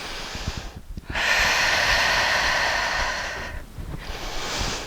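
A long, forceful exhale during a squat or plié, breathy and close, lasts a couple of seconds after a short intake and is followed by another breath.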